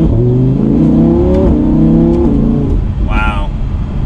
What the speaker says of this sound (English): We'll do one last acceleration up to 40 miles an hour to the speed limit